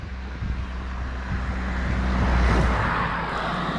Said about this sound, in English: cars are always passing